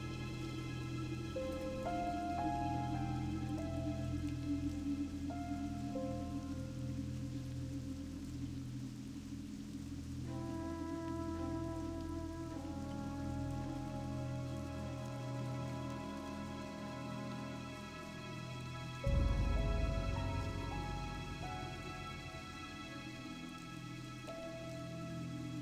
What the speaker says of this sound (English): this rain here is making me look forward to a day when it is warm enough for rain